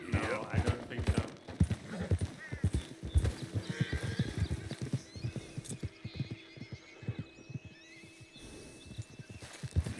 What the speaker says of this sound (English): Is this an Arabian horse?